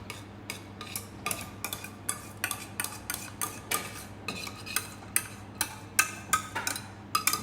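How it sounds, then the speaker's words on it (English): A utensil scrapes pasta bake sauce out of a pan in a home kitchen, giving a quick series of sharp, clinking scrapes and taps at an uneven rhythm, close and fairly quiet, with no talking. "Then scrape out the rest of the sauce out the pan."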